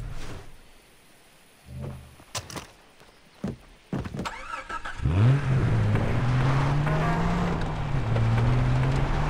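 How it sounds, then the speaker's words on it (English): A car in the Far Cry 3 video game, with door and mechanical clunks early on, then an engine that starts up and drones steadily while shifting pitch as it accelerates, close and loud. "I hear a car."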